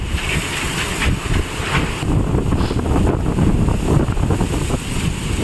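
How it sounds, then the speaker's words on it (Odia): A strong windstorm roars and buffets the microphone with steady, loud, dense rushing that never lets up, and no one speaks over it. "ପବନ ତ ଏତେ ଜୋରରେ ହେଉଛି"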